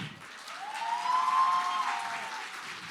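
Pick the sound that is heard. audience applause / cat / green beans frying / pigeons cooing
audience applause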